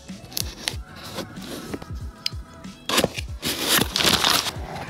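A Spyderco knife pouch is opened up close with a series of short zipping, scraping and crinkling sounds, growing busier toward the end, with no speech.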